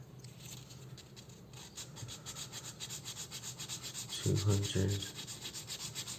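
Coarse sandpaper rubbed over a plastic toy car part, a Lamborghini transforming-robot figure, giving steady close scratchy strokes in a repeated rhythm, with a brief louder scrape near the end.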